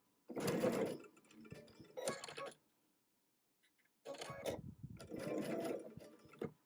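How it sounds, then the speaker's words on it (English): A sewing machine stitches seams on a Tula Pink butterfly quilt in two loud bursts, each lasting about a second or two, separated by a quiet pause. "I just have to be super careful as I'm sewing that I make sure all the seams that are on the bottom are lying flat"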